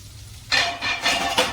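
Tomatoes dropped into a hot skillet burst into loud, close sizzling that swells in several waves over a second, with no talk.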